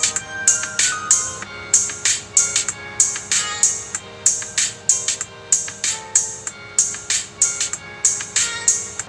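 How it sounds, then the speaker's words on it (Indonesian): MP3 music played through the small built-in speaker of a Huawei GT2 Pro smartwatch, a bright, repetitive plucked melody with evenly pulsing notes, clear and fairly loud with no talking over it. "ini kualitas suara MP3 ketika di play menggunakan smartwatch ini"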